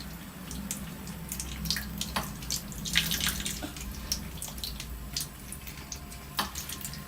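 A tap runs steadily into a sink while toy fruit is washed, with continuous close splashing and intermittent sharper splashes and knocks of plastic pieces under the stream.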